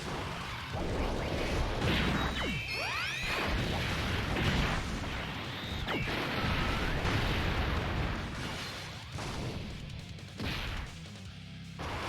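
Bardock's attack effects in the Dokkan Battle video game, with a dense, continuous wash of crashing, explosive impacts and sweeping whooshes that builds in layers for about twelve seconds. A couple of rising and falling tonal swoops cut through the roar.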